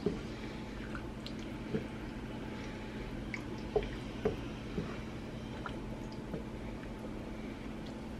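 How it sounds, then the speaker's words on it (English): Sauce and noodles are stirred in a pot for an easy budget pasta meal. Faint, soft wet squishing and occasional light scrapes sound against a quiet background hum. "I'm just gonna kind of stir that around"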